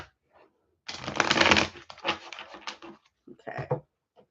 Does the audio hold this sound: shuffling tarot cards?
yes